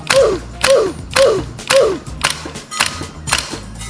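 A GHK Glock 17 Gen5 gas airsoft pistol fires 0.3 gram BBs at a range, giving roughly eight sharp, close shots with mechanical slide clacks, spaced about half a second apart and evenly paced.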